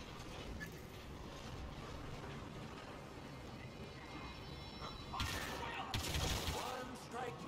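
Blaster fire in a Star Wars Battlefront 2 firefight: dense, continuous rattling shots amid a noisy battle din, swelling into louder sharp bursts and crashes toward the end, with voices mixed in.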